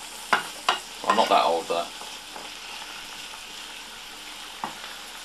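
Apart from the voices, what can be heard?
mushrooms frying in margarine in a pan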